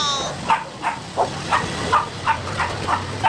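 A dog barks repeatedly outdoors in a steady series of about nine sharp, moderately distant barks against quiet background noise.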